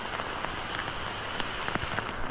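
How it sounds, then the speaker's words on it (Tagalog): Steady rain patters on a surface nearby, a dense even hiss with scattered drops, no voices. "Lumalakas na ang ulan"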